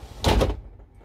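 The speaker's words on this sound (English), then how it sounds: "the sensible sliding door, though, only slides around the shower." A sliding shower door in a Hobby Optima motorhome is pushed along its track in one quick, close whoosh that ends in a soft thunk, then quiet.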